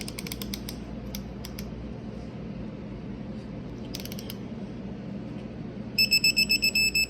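A ratchet tightens the last cylinder head studs on an LQ9 LS engine going into a Buick Regal, giving bursts of quick metallic clicks over a steady background hum, with the densest rapid ratcheting near the end.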